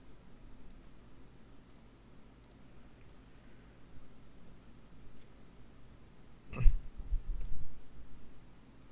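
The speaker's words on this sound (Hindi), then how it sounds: "अगर मैं इसके ऊपर क्लिक करता हूँ," Computer mouse clicking while navigating a plugin dashboard: one sharp, close click stands out after a stretch of quiet room hiss, with faint small ticks earlier, no talking.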